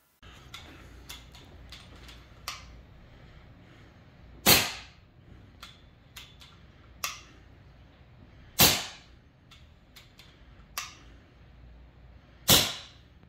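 Benjamin Gunnar air rifle fitted with a moderator firing three muffled shots at a steady interval, each a sharp crack with a short decay, with fainter ticks and clicks in between.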